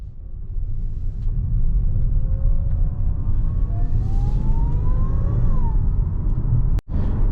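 A Nissan Sil-Eighty cruises on the road, heard from inside as a loud, steady low engine and road rumble with a faint whine slowly climbing in pitch, ending in a brief dropout near the end.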